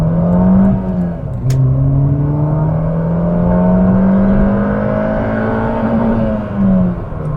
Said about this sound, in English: you just hit the rev limiter